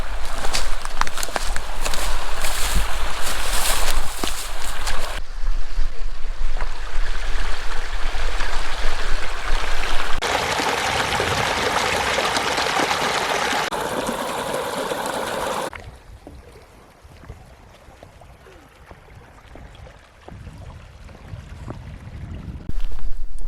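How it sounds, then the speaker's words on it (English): A small babbling brook on a trail in Ledges State Park, Iowa, where the creek flows over the road. Water rushes and splashes loudly and close, shifting in texture as the listener moves, then fades to a quieter trickle. "It's a beautiful little babbling brook."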